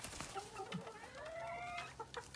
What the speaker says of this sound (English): So these are the chickens.